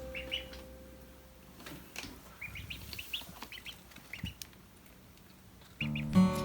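High, thin peeping of ducklings repeats in quick irregular chirps over a soft background rustle, with a louder thump near the end.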